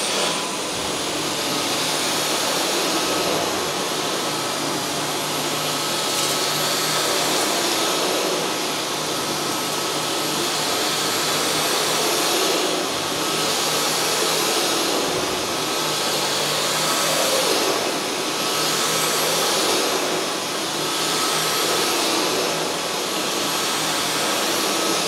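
A Dyson V12 Detect Slim cordless vacuum runs steadily over carpet, sucking up pet hair with a loud, continuous whine and airy roar that swells slightly in a few spots. No one speaks.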